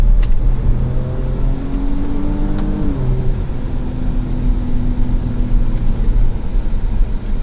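A loud engine drones steadily, its pitch rising and then settling into a sustained rumble, a 2024 Ford Ranger Raptor pickup with its exhaust opened up, idling and revving.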